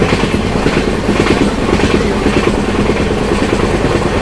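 Basava Express, a Mysuru-to-Bagalkot train with new LHB coaches, running on the rails past Maddur station, a steady loud rumble with rhythmic clickety-clack from inside the moving coach, with no voices.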